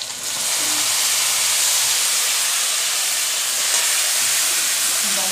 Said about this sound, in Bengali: এবার আমি এটাকে ভেজে রাখা আলুর মধ্যে দিয়ে ভালো করে কষাবো